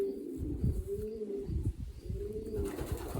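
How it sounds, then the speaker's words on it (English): A young racing pigeon coos in repeated soft, low, rolling phrases, close by in a loft, with faint rustling between calls. "Lovely little apple-bodied pigeon."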